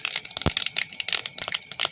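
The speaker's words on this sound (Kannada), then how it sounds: "ನೋಡಿ, ಇವಾಗ ಸಾಸಿವೆ ಎಲ್ಲ ಚೆನ್ನಾಗಿ ಸಿಡಿತಾ ಉಂಟು." Mustard seeds crackle in hot oil for a Mangalorean cucumber buttermilk curry, with sharp irregular pops and ticks close by over a faint sizzle.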